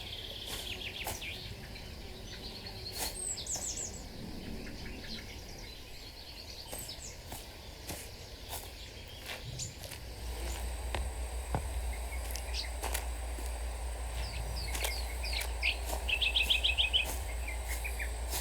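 Bird calls and chirps in the Botany Manor video game, scattered high tweets near a bird feeder over a steady outdoor ambience, with insect-like buzzing and a low hum rising partway through.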